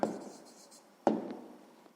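Two short scratchy strokes of handwriting, each a quick pen or chalk mark that fades out, spaced about a second apart, quiet and close.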